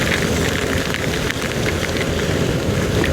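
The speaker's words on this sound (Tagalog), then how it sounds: "nabutan na naman ng malakas na ulan, ayan, dito sa EDSA" Heavy rain pours down steadily on EDSA, a dense loud hiss of drops hitting surfaces nearby, with no voices.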